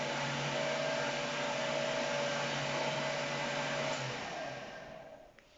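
A kitchen blender blends a quesillo mixture with vanilla and optional brandy or rum, giving off a steady, loud whirring motor drone that winds down near the end.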